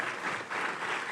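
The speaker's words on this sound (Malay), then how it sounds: "Kita berikan tepukan gemuruh kepada graduan seluruhnya" A convocation crowd gives the graduates a round of applause, a brief, fairly soft burst of many hands clapping that swells slightly midway and holds steady.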